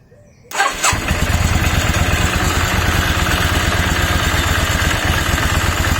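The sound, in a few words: Yamaha XVS650 starter motor spinning while engine runs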